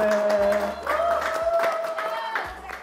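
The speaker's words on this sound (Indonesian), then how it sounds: "Boleh tepuk tangannya." Studio audience on a talk show clapping in a brief burst, layered with voices and background music, loud and close.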